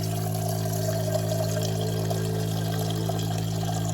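Steady, full-flow water pouring from a portable water tank sprayer on its full setting, a continuous rushing stream with a constant hum underneath, close and uninterrupted.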